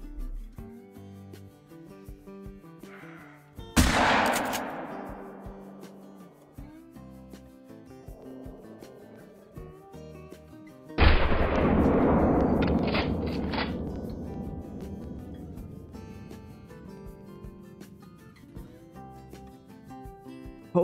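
A hunting rifle fires in the video game Call of the Wild, with a sharp loud shot followed by a decaying echo, and a second heavier blast later over soft background music.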